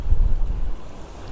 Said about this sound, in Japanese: ちなみに波はこんな感じ